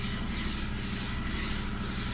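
Hand sanding of primer on a VW Beetle body, a steady scratchy rubbing at a quiet level with a regular back-and-forth stroke rhythm of about two strokes per second.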